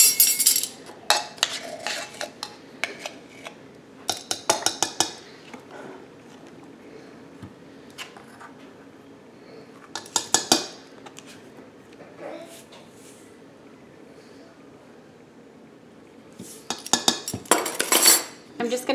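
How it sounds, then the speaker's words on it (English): Flour, pumpkin pie spice, baking powder, baking soda and salt being mixed in a bowl for pumpkin cookies: irregular bursts of utensil clinks and scrapes against the bowl, close up, separated by quiet stretches. "I'm just gonna mix these together"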